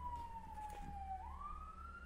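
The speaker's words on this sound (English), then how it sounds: "first time I heard a siren go off." A wailing emergency siren sweeps slowly down and then back up in pitch, steady and fairly faint, heard from a distance behind a radio broadcast.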